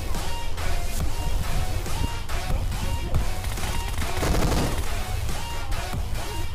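Rapid gunfire bursts from a shootout in the mobile battle royale game PUBG Mobile, loud and dense over a busy game soundtrack, with repeated sharp shots clustering toward the end.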